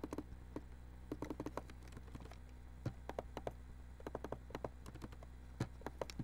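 Someone types on a computer keyboard in short irregular bursts of light clicks, faint and close against a steady low hum, with no speech.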